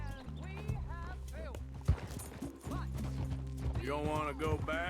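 Hooves of a horse ridden across an old battlefield in Red Dead Redemption 2, a steady rhythmic clip-clop under continuous talk and game music, with a brief snort or whinny.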